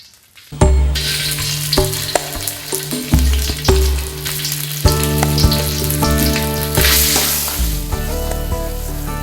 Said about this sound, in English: saute our green curry paste with these wonderfully fragrant kaffir lime leaves in about 2 tablespoons of cooking oil over medium-low heat